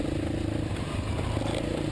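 A KTM 350 motorcycle being ridden, its mid-pitched engine droning steadily and loud for the whole stretch, with rough clatter from the ride and no talk.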